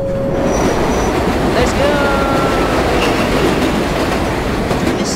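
A subway train in World of Subways 4 runs through a tunnel with a loud, constant rumble, rhythmic wheel clatter and thin metallic squeals rising briefly above the roar.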